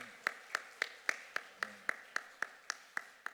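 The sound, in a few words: church congregation clapping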